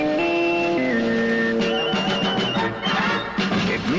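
CBS Radio's sports signature plays as a short bright musical jingle of brassy sustained tones stepping downward, then a busier rhythmic figure with punchy hits, clear and upfront with no talking.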